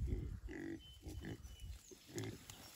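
Pasture-raised pigs grunt nearby outdoors, several short low grunts and snorts in irregular bursts, fairly close but quiet, with no speech.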